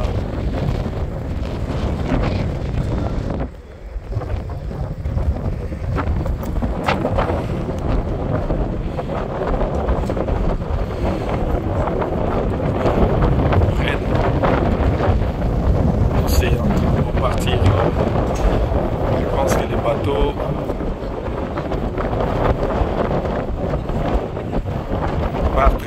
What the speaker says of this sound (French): Il y a un vent.